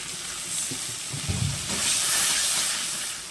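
Water splashed into a pan of frying green chilli, ginger paste and cumin powder, giving a loud, steady sizzle and hiss that swells and stays strong, with a few soft stirring knocks early on.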